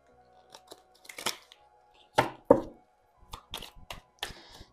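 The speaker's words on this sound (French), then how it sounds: "On va bien mélanger les cartes." Oracle cards being shuffled by hand: quiet, close, irregular slaps, flicks and papery rustles in small clusters, with near silence between them.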